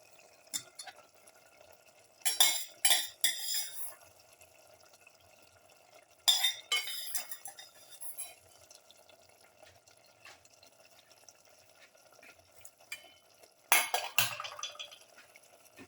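Metal spoon scraping and clinking in a pot as cauliflower pieces and lamb are stirred together, in a few short bursts separated by quieter gaps, close and moderately loud.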